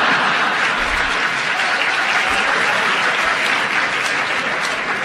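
Studio audience applause on a radio panel comedy show, a continuous, full-bodied wash of clapping from a large crowd that stays loud and even throughout.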